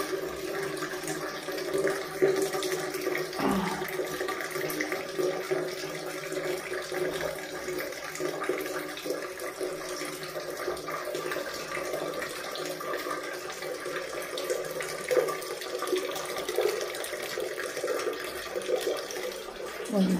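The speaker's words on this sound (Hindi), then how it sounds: "देखो पानी भर लेते हैं हम लोग।" Tap water runs steadily into metal basins and buckets on a cold winter day, a constant splashing hiss that lasts the whole time while people talk over it.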